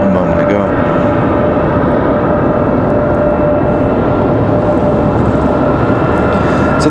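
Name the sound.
Bombardier CRJ regional jets departing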